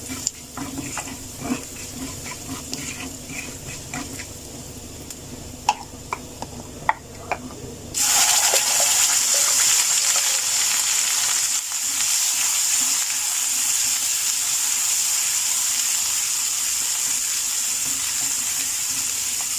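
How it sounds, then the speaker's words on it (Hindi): A tomato and onion paste for raw banana kofta curry goes into a hot pan, setting off a sudden loud, steady sizzle that follows several seconds of quieter clinks and stirring. "अब इसमें ऐड करेंगे ये जो अभी हमने टमाटर और प्याज का पेस्ट बनाया, ये हम ऐड कर देंगे।"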